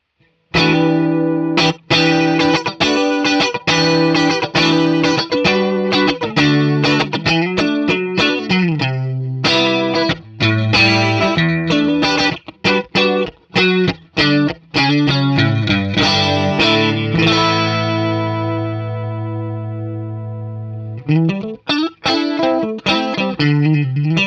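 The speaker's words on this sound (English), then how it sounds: "this gives you a great classic Boss chorus kind of sound" A Boss DD-20 delay pedal set to a classic chorus sound with low rate and full depth, shimmering over a played electric guitar; loud chords and single notes continue steadily with brief pauses, no voices.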